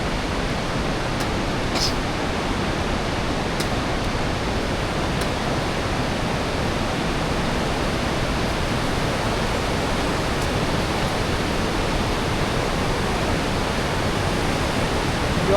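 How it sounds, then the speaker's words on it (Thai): Water rushes steadily with a dense, even roar, like a strong stream pouring out nearby, unbroken for the whole stretch, as it flows out of the mouth of the Xe Bang Fai river cave in Laos. "ปากถ้ำปากถ้ำน้ำไหลออกมา"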